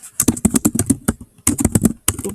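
Fast typing on a computer keyboard, crisp clustered keystrokes in two quick bursts with a short pause between, close and clear with no talking.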